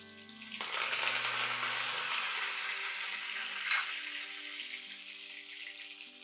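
Sliced shallots hit hot oil for a curry, a sudden loud sizzle that settles into a steady bubbling hiss, close and alone without talk.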